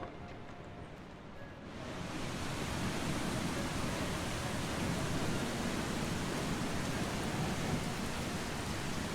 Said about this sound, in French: Madame, il pleut.